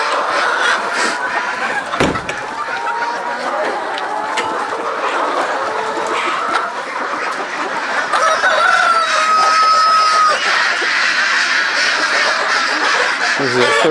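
Egg-laying hens cluck continuously in a large winter hoop house holding about 2,000 birds, a dense, busy chorus close and loud, with occasional crowing and a person talking beneath it.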